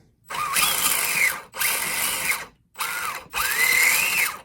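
Electric motor of an Axial Wraith RC car with a Spektrum Firma 40A ESC, run with the wheels off the ground: four close, loud bursts of rising and falling whine separated by short pauses.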